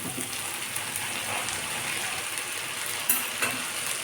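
Onion, ginger and garlic paste sizzles and fries in hot oil for a chicken roast, a continuous close crackle with a couple of louder scrapes from stirring near the end and no talking.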